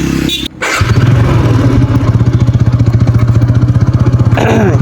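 A motorcycle engine kicks over after a brief sputter, then settles into a loud, steady, rapid idling thump that runs to the end.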